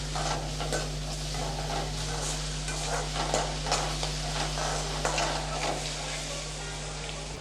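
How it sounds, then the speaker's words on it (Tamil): Curry leaves sautéing in hot oil in a pan for tomato kuzhambu, a steady sizzle and hiss with soft stirring scrapes throughout, backed by a low constant hum. "கொஞ்சம் கருவேப்பிலை சேர்த்து நல்லா வதக்கி விட்டுறலாம்."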